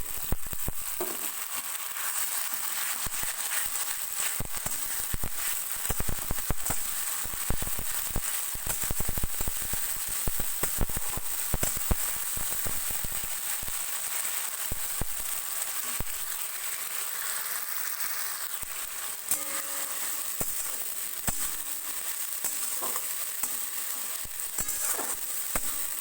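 A spice paste of garlic, green chilli, onion and dried chilli frying in a pan for Bengali chicken curry, with a steady crackling sizzle and scattered pops throughout, fairly quiet and with no talk.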